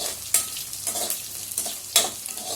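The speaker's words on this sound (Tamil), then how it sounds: "வெங்காயம் வந்து ரொம்ப வதங்க தேவையில்லைங்க" Onions sautéing in a pan for cauliflower kulambu, with a soft continuous sizzle broken by a few sharp scraping stir strokes, close and fairly quiet.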